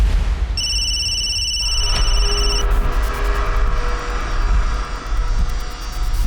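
A telephone rings in a crime drama scene, a bright electronic ring tone starting loud and breaking off after a couple of seconds, over a low rumbling background.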